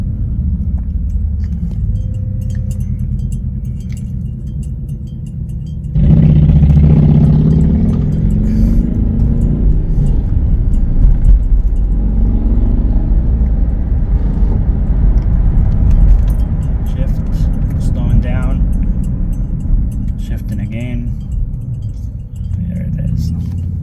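Cabin rumble of a DIY BMW electric conversion car held in low gear with auto shifting, quiet hum that jumps to a louder sustained drive noise around six seconds, with occasional clinks and a person talking over it.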